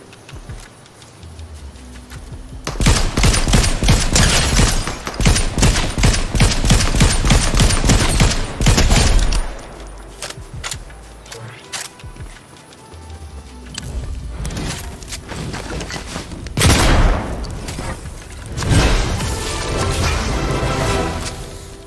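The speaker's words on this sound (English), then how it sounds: "who's shooting at me?" Gunfire in the video game Fortnite: dense bursts of rapid automatic shots come in long loud volleys, then several shorter bursts follow after a brief lull.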